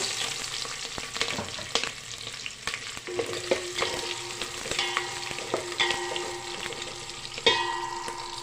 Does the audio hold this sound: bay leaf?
yes